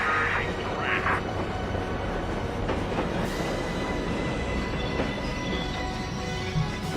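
A train in Final Fantasy VII rumbles continuously with a dense low roar and faint metallic squeals, while a voice speaks briefly over it near the start.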